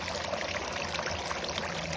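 Water pouring steadily through a Sunnydaze 65 inch outdoor fountain, a close, continuous splashing trickle with an even, unbroken texture and no voices.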